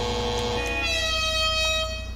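A car horn in the GTA 5 video game blares continuously for about two seconds, a loud, steady, multi-tone air-horn blast that opens with a few short pulses and then holds.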